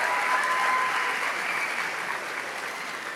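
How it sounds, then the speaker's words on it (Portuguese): An audience at a church gathering breaks into sustained, dense applause welcoming a guest, loud and steady before slowly tapering off. "celebre ele com a salva de palmas"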